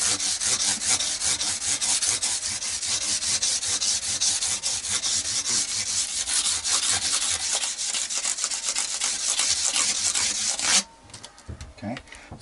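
A file rasps over the fret ends of a Squier Standard Telecaster guitar in quick, continuous rubbing strokes, close and loud, then stops abruptly near the end, leaving a few soft handling sounds.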